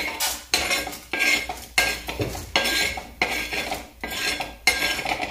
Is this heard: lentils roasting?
yes